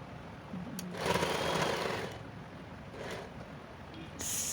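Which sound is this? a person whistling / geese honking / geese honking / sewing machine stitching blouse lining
sewing machine stitching blouse lining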